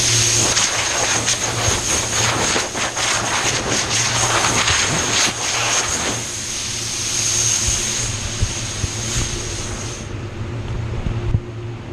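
A blower runs continuously with a loud, steady whine and rushing airflow close by, with gusting bursts of air in the first half before it settles into a smoother hum and then drops off near the end.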